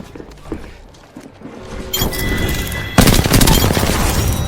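Rapid automatic gunfire in the Apex Legends video game, starting with sparse shots and building into dense, loud sustained bursts with metallic clinks, close and continuous.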